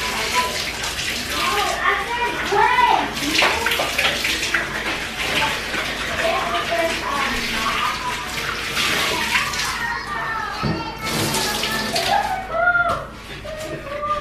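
Tap water runs and splashes continuously while cleaning rags are washed during household cleaning with vinegar and baking soda, with gurgling surges and birds chirping faintly in the background.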